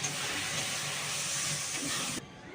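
Cornflour slurry poured into a hot pan of chilli chicken sends up a loud, close, dense sizzling hiss that runs steadily before cutting off sharply near the end.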